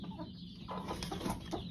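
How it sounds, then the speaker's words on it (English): Soft low clucking from a chicken inside a chicken coop, close and fairly quiet against a steady background hum. "Good chicken. You good chicken? You a good chicken?"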